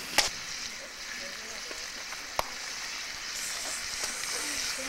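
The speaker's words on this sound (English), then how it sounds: "Man, do I love to hear the sizzle." Food sizzles steadily on a campfire during an outdoor breakfast, a soft continuous hiss with a few sharp clicks and pops, faint voices drifting in the background.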